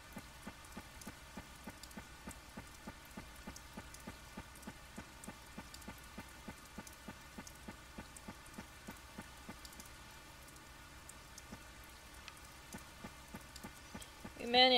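Rain falls in the video game Harvest Moon: Save the Homeland, a soft, steady patter with an evenly repeating ticking pulse, quiet throughout until a brief louder burst at the very end.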